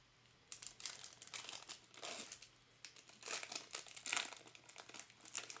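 Foil wrapper of a Panini Prizm Draft Picks baseball card pack crinkling and tearing open in a series of close, rustling bursts over several seconds, with no talking.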